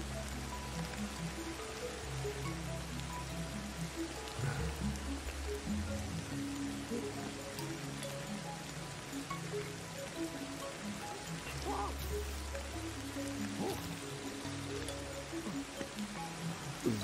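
Steady rain patters and hisses in the video game Ancestors: The Humankind Odyssey, a soft continuous wash of drops with low ambient tones underneath, no voices.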